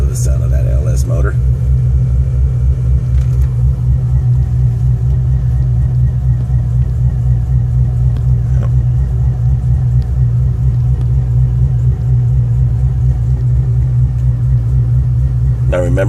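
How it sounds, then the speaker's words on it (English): An LS V8 engine idles steadily after oil priming, a loud, close low rumble with a lumpy pulse, and a few short faint knocks and clicks over it. "Love the sound of that LS motor."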